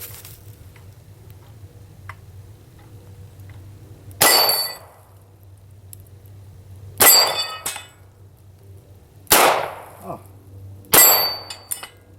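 A Ruger LCR .357 Magnum revolver fires at steel targets, four sharp, loud reports spaced a few seconds apart, each with a short ringing tail.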